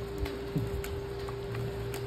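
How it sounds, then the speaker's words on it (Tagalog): Steady rain patters over a surface with a constant low hiss and a few distinct drops, loud and close, accompanied by a steady hum and occasional soft knocks in the background. "Umuulan na eh."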